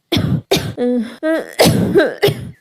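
A cartoon bird named Kuku coughing, a voiced imitation: a rapid series of about six loud, harsh coughs and throat-clearing hacks, some with a strained tonal wheeze, close and alone.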